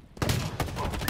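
Gunfire in Halo Infinite multiplayer: a quick run of several close, sharp shots fired in rapid succession, following a short quiet moment.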